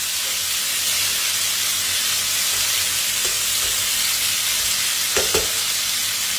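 Halved tomatoes go into a hot pan for penne arrabbiata with mussels and set off a loud, continuous sizzle with hissing steam, plus a couple of faint clinks of stirring near the end.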